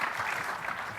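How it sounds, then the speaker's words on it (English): At a VMworld 2012 technical session, a conference audience gives a brief burst of applause, a dense, even patter of many hands. "I think that deserves a round of applause."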